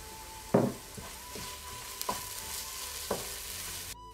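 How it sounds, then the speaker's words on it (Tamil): Mutton kurma sautéed with chilli and coriander powder: a quiet background sizzle broken by a few distinct spatula scrapes and knocks against the pan at irregular intervals. "இப்போ மிளகாய் தூளும் தனியா தூளும் மிக்ஸ் பண்ணி வச்சுருக்கிறத ஆட் பண்ணி நல்லா வதக்கிக்கணும்"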